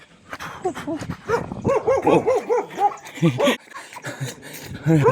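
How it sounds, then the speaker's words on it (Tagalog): A dog barks and yelps repeatedly at close range on a dike, excited and uneven, with high whining tones between the barks. "Habulin tayo ng aso dito"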